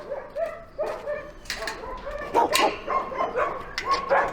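Dogs at an animal shelter barking and yipping in short irregular bursts, with a few whimpers, fairly close and without talk.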